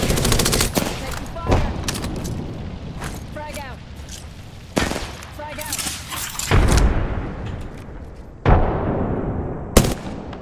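Gunfire in Apex Legends with a thrown frag grenade, loud bursts of rapid shots and sharp booms cutting through steady in-game battle noise, with sudden heavy hits near the middle and end.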